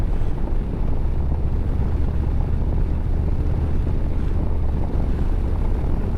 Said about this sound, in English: it does have more wind noise than I was expecting